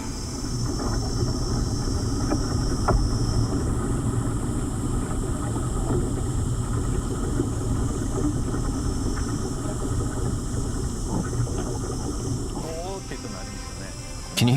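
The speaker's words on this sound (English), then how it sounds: "It's the sound of the tree soaking up water." Oak tree, an acorn-bearing type, soaking up water, heard as a steady, dense roaring rush that stays even throughout, with faint clicks and crackles scattered over it.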